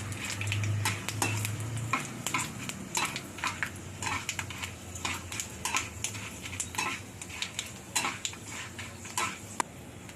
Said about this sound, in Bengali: 2টো শুকনো লঙ্কা আর অল্প পাঁচফোড়ন দেবো। দিয়ে একটু নাড়াচাড়া করব।